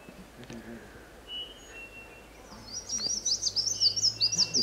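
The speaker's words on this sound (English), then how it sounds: "Wilson's warbler." A Wilson's warbler sings a quick, high, warbling run of chirps near the end, after quieter moments with faint background voices, in San Gerardo de Dota, Costa Rica.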